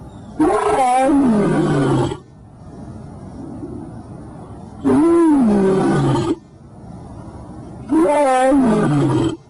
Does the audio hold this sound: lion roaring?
yes